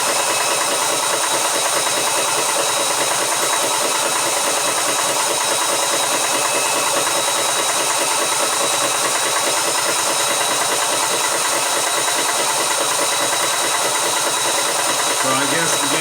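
A Vevor air compressor runs steadily while filling a 3L bottle, a continuous mechanical buzz and rattle held close and loud throughout with no break.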